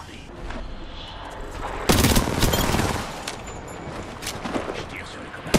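Gunfire in Apex Legends, played as Caustic in a Shadow Royale match: a dense burst of rapid shots and impacts begins about two seconds in, following a steadier stretch of game noise, and fades back into the background near the end.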